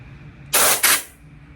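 Cold air blasts onto iron-shrunk Kitfox aircraft fabric in two close, loud hissing bursts, the first longer and the second brief, over a quiet background.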